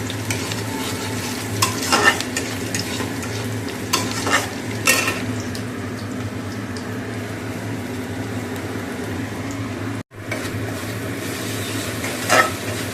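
Turmeric-marinated chicken pieces fry in a pan with a continuous close sizzle, broken by repeated stirring scrapes and a brief silent gap near the end, with no voices.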